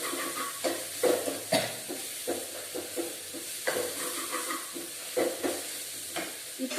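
Potatoes for poori curry fry in a pan while a spatula stirs them in repeated scraping strokes, a close sizzle rising and falling with each turn.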